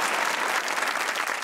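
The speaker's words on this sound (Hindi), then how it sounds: "ताली होनी चाहिए हॉकी के लिए।" Studio audience applause on a comedy talk show, a brief burst of dense, even clapping from a crowd.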